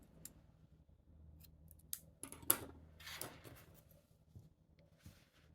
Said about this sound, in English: I'm going to snip the yarn.